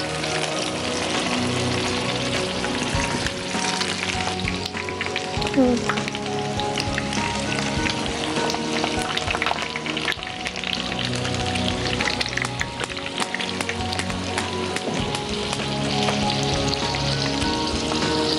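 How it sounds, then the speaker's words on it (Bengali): Prawns frying in hot oil, dropped in one by one, give a dense, continuous sizzle that stays loud and steady throughout, with no talking over it. "এবার প্রনটা দিয়ে দাও। এগুলো একটা একটা করে ছেড়ে দিতে হবে।"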